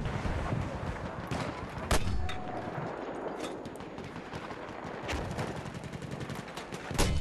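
Close machine gun fire rattles in Battlefield 1, dense bursts of rapid shots mixed with heavier booms and sharp cracks in a continuous loud battle din.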